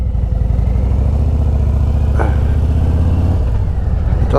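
A 2023 Harley-Davidson Road Glide Special with a Screaming Eagle Stage 2 upgrade pulls away with a steady, deep V-twin engine rumble, loud and close, the pitch rising slightly as it accelerates.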